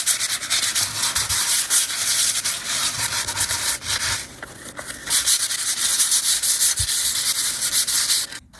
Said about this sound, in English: So you want to sand with the grain of the wood.